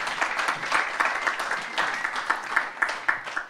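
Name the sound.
round of applause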